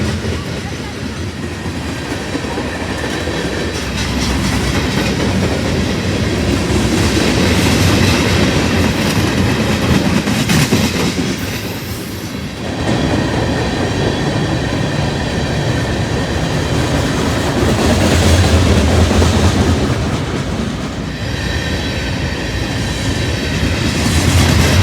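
A freight train of railroad cars rolls past close by, a loud and steady rumble with clickety-clack wheel beats and brief squeals that holds for the full length.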